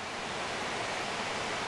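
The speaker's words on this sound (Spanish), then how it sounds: "Estamos en la cascada de Peñaladros, entre los barrios de Cozuela y Martijana, aquí en el Valle de Angulo" The Peñaladros cascade in the Valle de Angulo, a waterfall roaring in a steady, dense wash of rushing water with no pauses, close and loud throughout.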